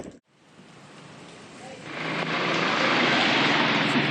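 Steady rain pours down during a road trip in Palawan between Puerto Princesa and El Nido, building from a softer hiss into a loud, dense, continuous wash of drops.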